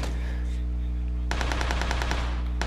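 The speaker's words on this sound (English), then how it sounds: "They really trying to fire at each other." Rapid automatic gunfire in the video game PUBG, a loud burst of evenly spaced shots, a pause, then more shots starting up, over a constant low hum.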